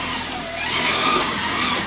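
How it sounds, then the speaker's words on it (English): A Revo Slot slot car races around a Carrera track, giving a loud, steady whirring motor drone that swells slightly midway, close and alone with no voices. "It actually runs really well on a Carrera track"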